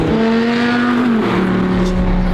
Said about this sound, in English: Beautiful V10 with the supercharger.